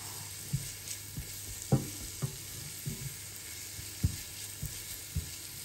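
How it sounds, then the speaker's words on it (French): Leeks sweating gently in a pan for leek risotto, a soft steady sizzle with occasional light knocks of a stirring utensil, close and with no voices. "Donc on les fait légèrement suer avant de rajouter le risotto."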